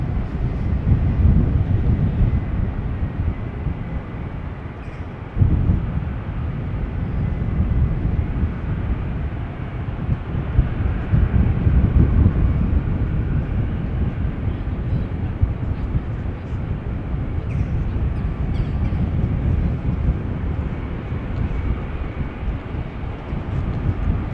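An Embraer E2 airliner bound for Bordeaux passes at Amsterdam Schiphol, a steady, loud low jet roar that swells and holds with wind buffeting the microphone.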